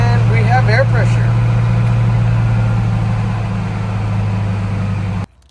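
The 8.2-liter Detroit diesel in a 1956 Ford C800 truck runs at a steady close idle, a loud low drone under a voice, cutting off abruptly near the end.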